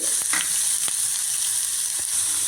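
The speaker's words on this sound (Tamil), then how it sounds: "அதில் கொஞ்சம் எண்ணெய் ஊற்றிருக்கிறேன். கடுகு உளுந்தம் பருப்பு அதில் சேர்க்குறேன்" Mustard seeds and lentils sizzle steadily in hot oil, with a few sharp pops and crackles breaking through the constant frying hiss.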